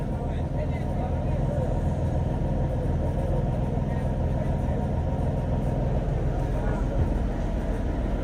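Rumbling engine of an Indonesian intercity bus fitted with a loud aftermarket war exhaust, a steady dense drone heard from the rear seats, continuous and close throughout with no pauses.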